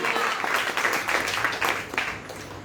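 A church congregation claps together in a dense, rhythmic burst of hand claps that fills the room, steady and fairly close for a few seconds.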